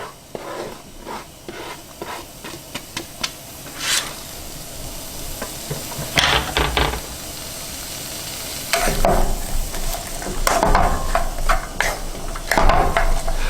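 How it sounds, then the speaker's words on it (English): Chopped onions and other chopped ingredients go into a pan and fry with a rising, close sizzle. A run of spoon taps and scrapes comes first, then bursts of crackling as the food hits the oil. "Let's get everything we chopped and get it in the pan"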